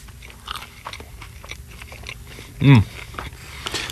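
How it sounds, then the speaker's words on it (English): A single loud, crisp crunch as someone bites into a crispy bagel, a short burst rising above quiet background noise and soft chewing sounds. "Oh, listen to that crunch."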